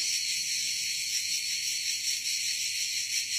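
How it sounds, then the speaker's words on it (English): Dense, steady high-pitched cricket chirring fills the summer air in Italy without pause, a constant insect chorus with no voices. "you can hear all these crickets all year long"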